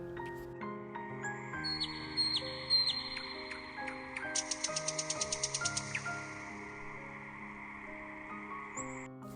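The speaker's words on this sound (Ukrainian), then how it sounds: "не можна уявити, як це можливо не милуватись співом соловейка" A nightingale sings in a summer city park, with bright chirps and a rapid rhythmic trill over steady background music.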